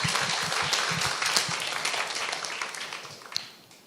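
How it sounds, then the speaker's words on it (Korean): An audience at a school academic festival gives a dense round of applause to welcome a speaker, holding steady and then thinning out toward the end. "박수로 맞아주세요"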